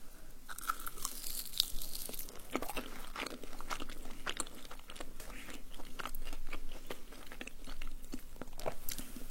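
Close, crisp crunching and chewing of crunchy tacos, repeated bites and chews with a faint background hiss and no talking.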